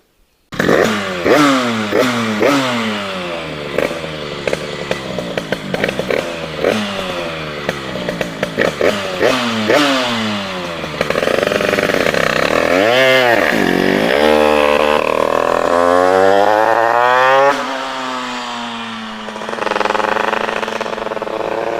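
A Derbi moped engine revs hard and close during wheelie runs at a wheeling contest. Its high buzzing whine climbs and falls in repeated sweeps with rapid throttle blips, stays loud throughout and drops off near the end.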